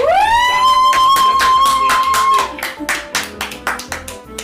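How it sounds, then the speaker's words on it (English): A live podcast audience claps in quick, regular rhythm; the claps start under a loud, sustained whistling tone that rises and holds, then continue alone after the tone cuts out. "Keep clapping."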